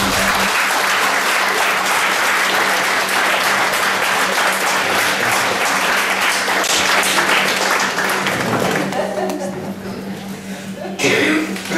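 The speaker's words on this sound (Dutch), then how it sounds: "Mag ik dan ook een daverend applaus voor uw hypnotiseur" Loud, thunderous audience applause welcoming a hypnotist at a stage show, dense and continuous before thinning out near the end, with some voices and a low hum under it.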